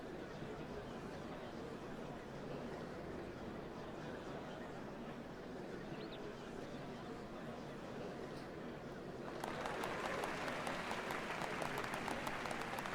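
Applause from a large in-game crowd during a Final Fantasy XIV: Dawntrail cutscene at the changing of the Dawn Servants, a steady roar of clapping that swells louder near the end.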